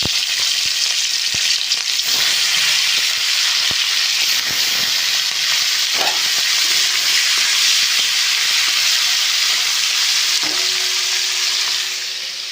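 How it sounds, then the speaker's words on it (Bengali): Prawns fry in a pan with oil, a continuous close sizzle and bubbling hiss, broken by a few utensil clicks and turning sounds, no voices. "প্রথমে চিংড়ি মাছটা হালকা করে ভেজে নিচ্ছি"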